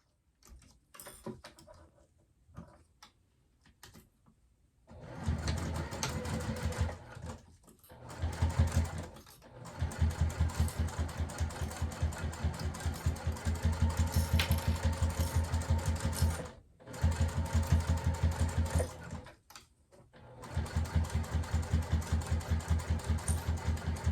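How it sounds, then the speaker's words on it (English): Sewing machine stitching a double-sided purse strap an eighth of an inch from each edge, running in steady rapid bursts with short pauses between them, loud and close with no talk. "we're just going to go ahead and carefully sew down an 1/8 of an inch on either side"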